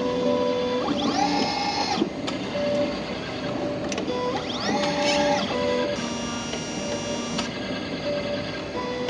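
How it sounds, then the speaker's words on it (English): An HPLC autosampler's motor whirs up in rising pitch twice as it moves a sample bottle, with small mechanical clicks and a steady electronic hum underneath, close by. "you will also hear the auto sampler making some noise"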